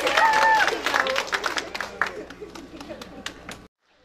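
Audience clapping at a talent show, a burst of many hands that starts loud and thins out over a few seconds, with voices and a whoop in the crowd, then stops abruptly.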